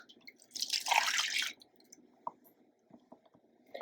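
Milk poured from a container into a casserole dish over beaten eggs, a soft liquid splash lasting about a second, followed by faint scattered clinks and taps.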